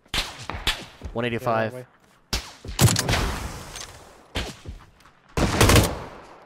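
Gunfire in PUBG arrives in several sharp cracks and short bursts, loud and close, spread between stretches of a voice and a brief whistling tone.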